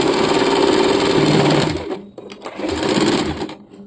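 Sewing machine stitching cotton fabric for a nightie, a loud rapid mechanical chatter that runs steadily, pauses briefly, then resumes before stopping.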